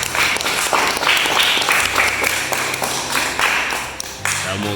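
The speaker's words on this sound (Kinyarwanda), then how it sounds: "Amashyi menshi." A group applauds at a children's karate class with loud, sharp hand claps in a quick, uneven burst that runs for several seconds.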